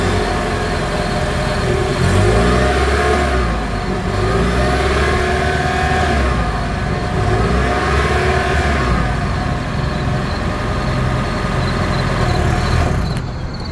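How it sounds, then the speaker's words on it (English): Exhaust of a 2025 Toyota Crown Signia hybrid, a steady mid-pitched engine drone with mild swells as it revs, recorded close and continuous for about fourteen seconds without talk. "As always, here is that exhaust clip."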